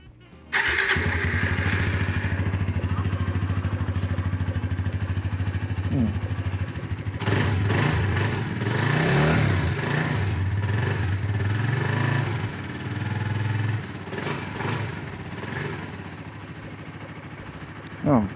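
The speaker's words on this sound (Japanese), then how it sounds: "ちょっとエンジンかけてみましょうか。" A Suzuki GSX-S125 motorcycle fires up after a spark plug change and settles into a loud, steady, close idle that roughens midway and runs on for many seconds, with no talking over it.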